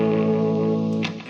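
An electric guitar plays through an Orange O Tone 40 amp with slapback delay, sustaining a held chord with a doubled, slightly echoing tone before a short pick scrape and fade near the end.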